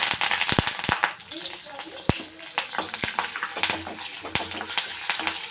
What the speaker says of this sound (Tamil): சீரகம் நல்லா பொரிஞ்சது.